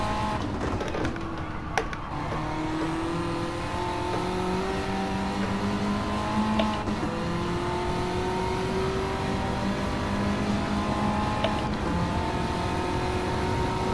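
A front-wheel-drive car in Gran Turismo 7 holds a continuous engine drone with shifting pitch as it slides through a high-speed turn, with faint tyre and road noise underneath and no voices.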